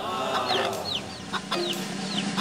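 A chicken clucks several times in short, rising calls, fairly close, over a busy background murmur.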